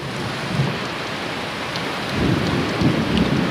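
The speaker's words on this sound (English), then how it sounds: "Severe thunderstorm, Goose Creek, with strong squall line." A severe thunderstorm with a strong squall line and high winds pours steady heavy rain while low thunder rumbles, swelling louder toward the end.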